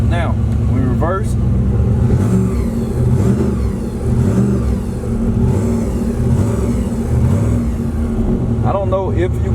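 A turbo LS Camaro with a damaged transmission reverses, its engine and drivetrain whirring and revving loudly and unevenly with a grinding undertone, while someone talks over it.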